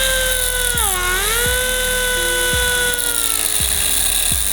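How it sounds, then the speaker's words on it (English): A cutting wheel scores a line across metal, giving a steady high-pitched grinding whine that dips briefly in pitch under load, with several short knocks along the way; loud and close, no speech. "I'm gonna score a line on the top with a cutting wheel"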